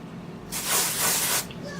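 A single sustained dry shampoo aerosol spray hisses for about a second, loud and close, with a quiet pause before and after.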